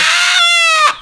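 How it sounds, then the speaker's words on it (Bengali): A single loud, close desi village rooster gives a strained, brassy call lasting about a second, ending abruptly. "এই যে দেশি মুরগি ধরা হয়েছে সকালে। এখন এটা মোরগ, একদম নিজেদের পালা মোরগ।"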